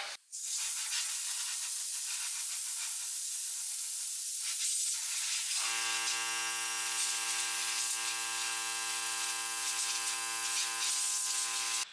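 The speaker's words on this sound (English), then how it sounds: "Now we'll spray it with some compressed air to cool it down." Compressed air sprays onto a freshly quenched stainless-steel fillet knife blade held in a vise, a loud steady hiss running almost the whole time, with a high whining tone joining partway through.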